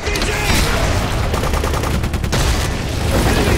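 Intense gunfire in the Nuketown 2025 game trailer, a loud, continuous fusillade of rapid automatic shots filling the whole stretch with no pause.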